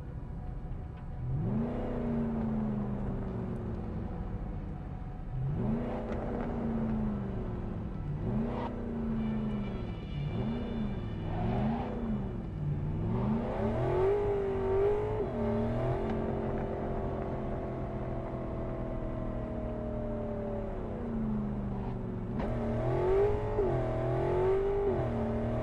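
A car engine in Cyberpunk 2077 revs repeatedly while driving, rising and falling in pitch through a series of accelerations and gear changes, loud and close with no one talking.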